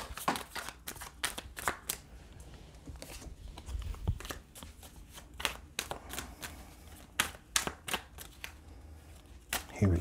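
Tarot cards being shuffled by hand, a run of crisp riffling snaps and flutters in irregular bursts, close and fairly quiet, with no talking over them.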